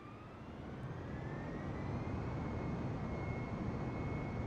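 Airliner engines spooling up to full throttle in Microsoft Flight Simulator, a loud steady jet roar with a rising whine that holds constant throughout.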